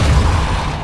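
A Depulso spell cast in Hogwarts Legacy gives a short, heavy, booming burst of force, loud and near, with low rumbling energy that fades quickly.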